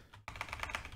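Quick keystrokes on a computer keyboard, a brief run of about eight soft clicks in close succession, near and fairly quiet.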